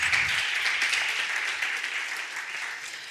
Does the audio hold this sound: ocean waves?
no